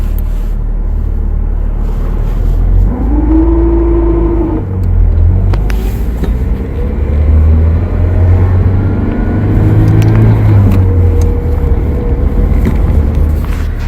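An Isuzu Hombre pickup idles inside a garage while the clutch is pressed and released, giving a low steady engine rumble with a brief rising whine and slight shifts in tone, close and loud with no talk.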